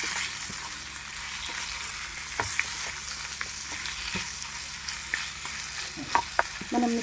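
Marinated chicken fries in a pan with a continuous sizzle, while a utensil stirs and scrapes with frequent sharp clicks and knocks, close and steady.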